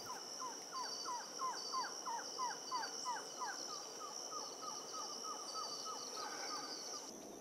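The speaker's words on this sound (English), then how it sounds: "a female green-backed trogon, calling to a nearby male." A female green-backed trogon gives a rapid series of short, repeated clucking call notes, steady in rhythm, against a faint background of insect hum and southern Amazonian forest ambience in Brazil.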